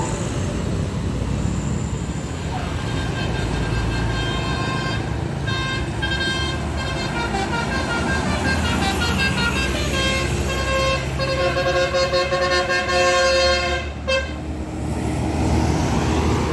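Sinar Jaya intercity bus pulling out of Wonosobo terminal, its multi-tone horn tooting in long repeated chords over a steady engine rumble, loud and close, with a brief pause near the end before the horn resumes.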